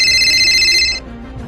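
A phone ringtone rings loudly and steadily with a bright repeating tone, then cuts off about a second in, leaving quiet room sound.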